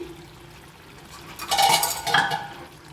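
A metal pot lid lifts off simmering mixed vegetables for a Bengali vegetarian panchratna curry, giving a couple of close metallic clinks and scrapes over a faint background hiss, then quiet.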